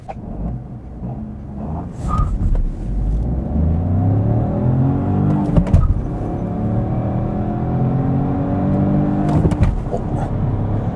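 Peugeot 308 hot hatch with a manual gearbox accelerating hard on a slippery surface, its engine rising through the revs in a steady loud drone with audible gear-change dips, heard from inside the cabin.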